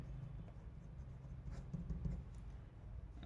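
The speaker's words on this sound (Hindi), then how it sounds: "तो इसको लिखते हैं" Pen writing on paper while Arithmetic Progression terms are worked out in a Class 10 maths lesson, a steady close scratching with a few firmer strokes midway, no talk.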